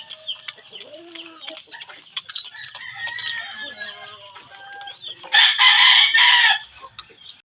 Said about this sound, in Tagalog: tapos na po akong nagpapakain sa ating mga alagang panabong na manok